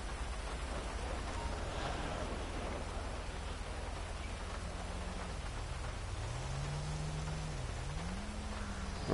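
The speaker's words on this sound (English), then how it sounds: "I mean, it is raining" Steady rain hisses across the whole scene in GTA V, a dense even wash of falling drops with a low rumble beneath and a faint wavering tone drifting in the background, no voices.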